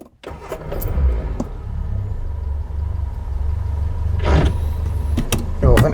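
A Reliant Fox idles with a steady low engine drone, with a brief mechanical whine near the start and clunks and scrapes near the end as a dragging clutch makes reverse hard to engage.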